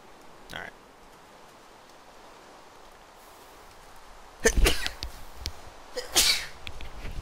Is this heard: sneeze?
yes